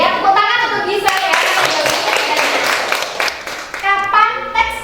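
Schoolchildren in an Indonesian primary classroom clap together for a classmate, a dense, lively burst of hand claps that builds and lasts a few seconds, with children's voices chanting before and after.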